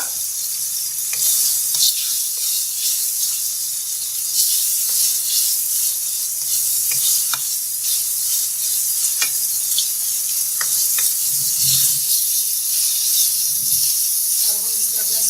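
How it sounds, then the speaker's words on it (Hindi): Chicken frying in oil in a pan for chicken macaroni, with a steady loud sizzle and hiss throughout, broken by occasional stirring scrapes and clinks. "इसे फिर 1 से 2 मिनट फ्राई करेंगे"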